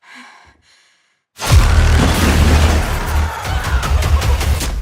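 After a brief breathy sigh and a moment of silence, a loud burst of gunfire erupts into sustained, crackling rapid shots that continue to the end, from a horror film trailer.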